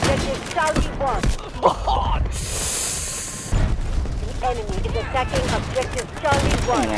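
An M870 shotgun fires in the shooter game Delta Force, with loud booming shots and bursts of gunfire heard under excited talking.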